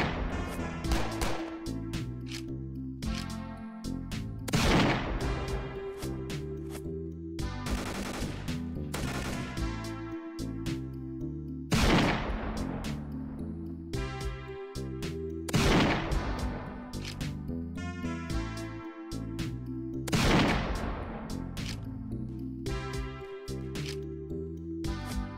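Sniper rifle shots in a Unity multiplayer video game, several sharp loud cracks spaced a few seconds apart over a steady game music bed.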